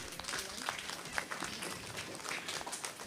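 An auditorium audience at a primary schools' quiz gives a round of applause, moderately loud mixed clapping with some sharper individual claps standing out from the crowd.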